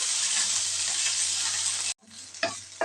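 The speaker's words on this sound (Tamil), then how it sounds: "ஒரு 2 டீஸ்பூன் எண்ணெய் விட்டுக்கலாம். இந்த புதினாவையும் கொத்தமல்லியையும் இதில் நம்ம வதக்கி எடுத்துக்கலாம்." Mint and coriander leaves sautéing in about two teaspoons of oil, a dense steady sizzle that cuts off abruptly, followed by a quieter stretch with a few stirring scrapes.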